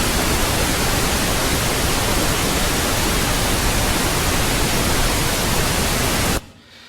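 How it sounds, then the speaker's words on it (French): Pink noise test signal, a steady loud broadband hiss holding constant for over six seconds, then stopping abruptly into near silence. "Du bruit rose, bon, tout le monde le connaît"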